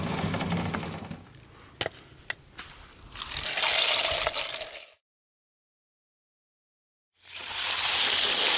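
Polished beach agates rinsed under running water, a broadband gushing flow that starts and stops twice, with a few sharp clicks of stones knocking together before the second burst of water.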